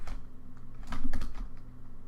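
Fingers type on a computer keyboard at a desk while compiling C code, giving a quick run of soft, close key clicks over a low steady hum, with no talk.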